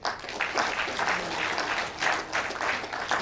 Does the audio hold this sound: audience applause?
yes